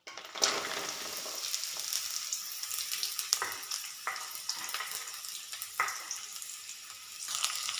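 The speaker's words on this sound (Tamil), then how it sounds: "இந்த பலாக்கொட்டை எல்லாமே இந்த எண்ணெயிலே நல்லா வேகணும்." Cut jackfruit seeds fry in hot oil with a steady, close broadband sizzle, broken by sharper crackles and stirring scrapes throughout.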